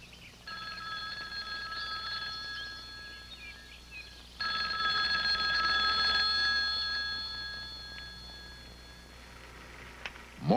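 An old telephone bell ringing in repeated bursts, two long trilling rings with a pause between, fairly clear against a quiet background.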